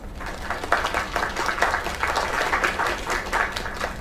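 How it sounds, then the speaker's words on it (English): After a singer's performance in the video game Lake, a crowd gives a steady round of applause, moderately loud, with clapping rising and falling slightly throughout. "Another round of applause."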